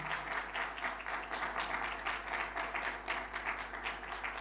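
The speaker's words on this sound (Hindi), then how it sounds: "जोरदार तालियां बजाएंगे खुदावन के लिए," A Christian congregation claps during a Christmas-season church service, a sustained round of applause with a loose rhythmic pulse of many hands striking together, continuing evenly throughout without speech.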